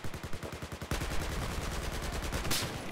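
Rapid automatic gunfire in the shooter game Battlefield 4, a steady stuttering burst that grows denser and louder partway through and carries on continuously, with a sharp crack near the end.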